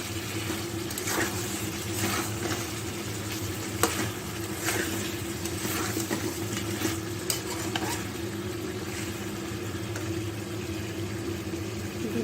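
Potatoes stirred into country chicken being fried in a pan, a steady sizzle with repeated scraping stirs throughout, close and continuous with a low hum beneath.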